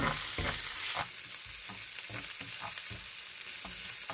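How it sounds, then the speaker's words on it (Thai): Oil sizzles steadily in a hot pan as chili and garlic are stir-fried, a utensil scraping and stirring in irregular strokes, close and fairly loud, with no talking. "พอน้ำมันร้อนแล้วก็ใส่พริกกับกระเทียมลงไปผัดให้หอมค่ะ"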